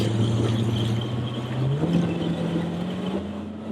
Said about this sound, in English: I'm going to give it a little more gas